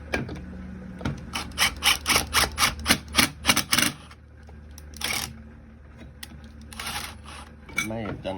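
A piece is knocked into place with a quick series of about a dozen sharp, rhythmic whacks close by, followed by scattered lighter knocks and handling clatter.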